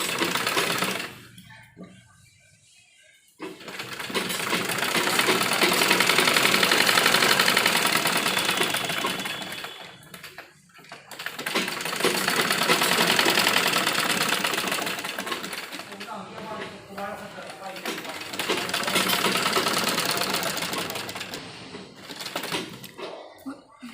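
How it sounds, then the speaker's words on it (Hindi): A sewing machine stitching lace along the edge of an embroidered blouse runs in three long sustained bursts separated by short pauses, close and fairly loud, with brief gaps where the fabric is repositioned. "जहाँ तक भी हमारी ये लेस आएगी वहाँ तक हम इसको इस तरह से निकाल कर थोड़ी थोड़ी किनारे पर सिलाई लगाएंगे।"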